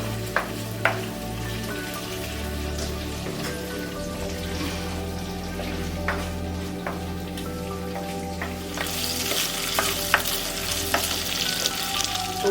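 Carrots and beans fry in a hot pan, a steady close sizzle broken by sharp clicks and scrapes of stirring, with the crackle growing brighter toward the end and no voices.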